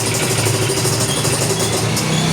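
A Yamaha Mio i 125 scooter engine with a noisy motor runs steadily nearby with a constant, buzzy drone and no pauses.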